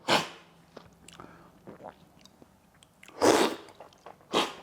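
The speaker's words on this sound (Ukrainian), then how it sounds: "Вибачайте, що ми так багато сьорбаємо" People slurp coffee while tasting roasts, making several loud, airy slurps close by, with one at the start and two strong ones near the end, separated by quieter mouth sounds.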